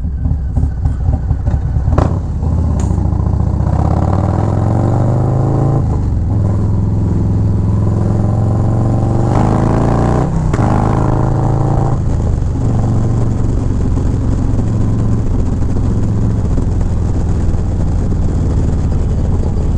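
A Harley-Davidson Low Rider S with a 122 Screaming Eagle stage 3 engine being ridden, a loud, close, deep continuous engine rumble with throttle swells and shifts in pitch throughout.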